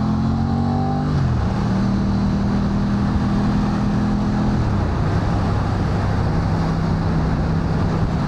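Aprilia RS660 2025 motorcycle overtaking on a road, its engine droning steadily and loud throughout with a pitch step as it shifts up, under strong wind rush and no talk.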